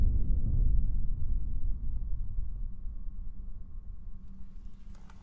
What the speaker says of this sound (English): We had rain.